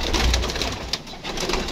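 Pigeons on a rooftop coo softly in low, rolling murmurs over a steady outdoor background hum, close by and continuous for a couple of seconds.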